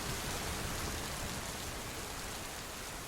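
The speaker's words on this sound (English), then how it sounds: "he listened to the rain" Steady rain falls on a small wooden hut by a riverbank during a summer storm, a dense, even hiss of drops that carries on without a break.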